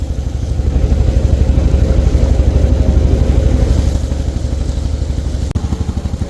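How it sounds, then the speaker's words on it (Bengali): A fishing trawler's engine chugs loudly and steadily up close, a fast rhythmic diesel thump running without a break while the boat travels along a narrow channel toward Dhal Char on the Bangladesh coast; one brief knock sounds near the end. "তো এটা হলো আমাদের ট্রলার আমরা ফিশিং বোর্ডে যাচ্ছি"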